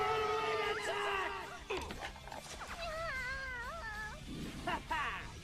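A cartoon cat in a Fairy Tail anime episode gives several drawn-out, wavering meows and cries, loud and close, mixed with other voices and soundtrack.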